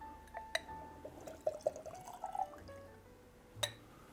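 Maker's Mark Cellar Aged whiskey is poured from the bottle into a glass, giving a short, quiet liquid pour with a few small clinks and taps nearby, no talking.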